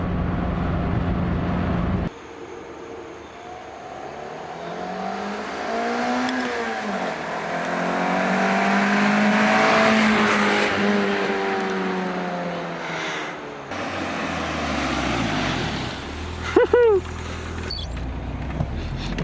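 A manual Toyota Corolla with a 4A-GE engine drives past. Its engine note rises as it approaches and accelerates by, then fades away, and a brief squeal follows near the end.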